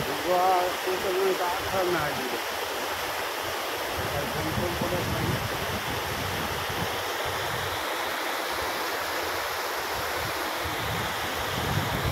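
River water flows strongly near a riverside village, a loud continuous rushing roar filling the whole stretch, with a brief voice at the start.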